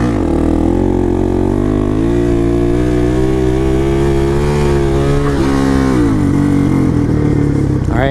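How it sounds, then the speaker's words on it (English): Supermoto motorcycle engine revving loudly and close during a wheelie, holding a sustained throttle with rising and falling pitch as the rider modulates the gas. "all I'm doing, popping the clutch, giving a little bit of gas, and controlling the throttle there"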